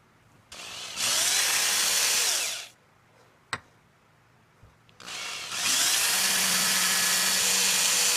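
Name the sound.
drill pre-drilling holes in wooden pepper mill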